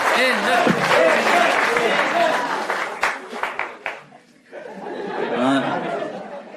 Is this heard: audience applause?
yes